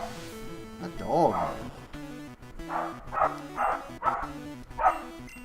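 Wavering electronic sound effects from a retro Pokémon game give way to a dog barking five or six times in a steady run, loud and nearby over blippy 8-bit music.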